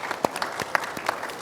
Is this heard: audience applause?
yes